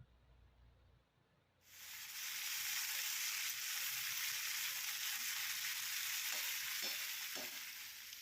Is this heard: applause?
no